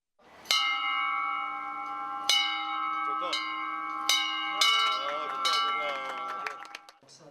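A large bell at a university history museum in Korea rings out several times, each strike sustaining and overlapping, with a richer cluster of tones toward the end.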